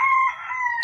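A pet chicken calls out loud and close in a single sustained, strained cry with a bright harmonic tone, stepping down in pitch partway through, alone with no talk.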